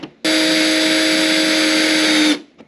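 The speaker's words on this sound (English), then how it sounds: "I'm gonna drill the hole right in the middle" A power drill whirs at a steady high speed for about two seconds, loud and close, drilling a hole for a Saleen-style wing on a Cobra, then spins down and stops.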